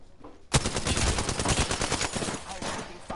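Rapid automatic gunfire in the video game Apex Legends, a loud sustained burst of dense shots kicking in after a brief quiet moment and rattling on steadily to the end.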